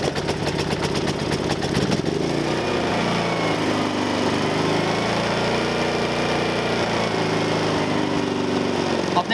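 A Briggs & Stratton P2200/P3000 portable generator engine starts with a rapid rattling pull and catch, then runs at a steady, loud, buzzy drone close by for several seconds.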